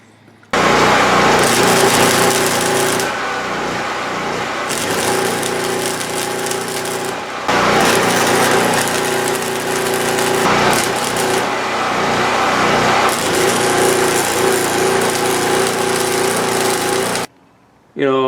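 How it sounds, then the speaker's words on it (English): A power tool cuts a metal shaft for the frame of a 1968 Buick LeSabre, a loud continuous grinding whine held steady for long stretches with brief drops between passes, no talking over it. "We're just gonna have to take this shaft and just shorten it a bit"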